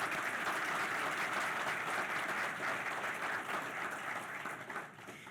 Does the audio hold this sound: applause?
yes